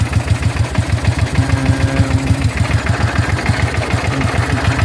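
A 1996 Suzuki VS 800 GL motorcycle engine idles on its rear cylinder alone with no fuel pump, giving a steady, loud, close-up low chugging pulse that beats evenly throughout.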